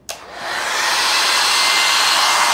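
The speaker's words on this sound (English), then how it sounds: "First, plug in the hair dryer and put it on the coldest setting for your safety reasons." Hair dryer switched on and running at its highest setting for a ping pong ball float experiment, a steady close whoosh of airflow that quickly ramps up after a click and holds constant.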